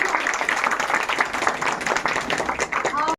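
Applause for a guest at a free sewing-training event run by an NULM self-help group in South District, Delhi: steady, dense clapping from a gathered crowd, fairly loud throughout, mixed with some voices, stopping abruptly at the end.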